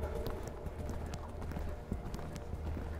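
Horse hooves clip-clopping steadily during a riding lesson, a continuous rhythmic beat of footfalls close by with a low background rumble and no talk.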